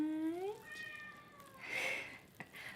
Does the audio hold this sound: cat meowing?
yes